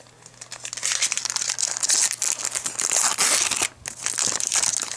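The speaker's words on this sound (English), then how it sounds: "today I'll be opening two hobby packs of Series 1 and two hobby packs of artifacts" Foil hobby packs of Upper Deck Series 1 and Artifacts 2013-14 hockey cards being torn open, heard as close, loud crinkling and ripping in irregular bursts with a brief pause near the end.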